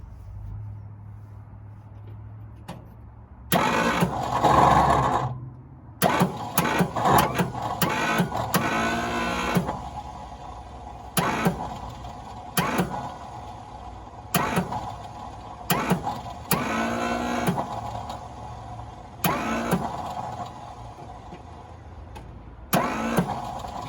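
A 1963 Ford F350 engine cranks repeatedly without catching, with bursts of rhythmic starter churning separated by short pauses, close and fairly loud, over a faint low hum.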